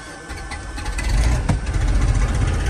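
Piston engine on a Piper Chieftain twin aircraft cranking and catching, a rough low rumble that builds into a steady loud run close to the microphone.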